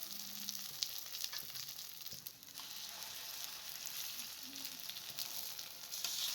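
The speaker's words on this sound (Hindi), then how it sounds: "अब ऑयल डाल दें और अंडे में डिप करके कबाब को फ्राई कर लें।" Egg-dipped kababs fry in oil over a medium flame with a steady, fairly quiet crackling sizzle. A few faint clicks and light pan knocks come through, and no one speaks.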